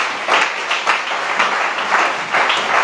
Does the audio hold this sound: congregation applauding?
yes